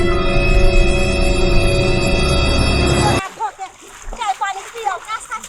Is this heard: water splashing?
yes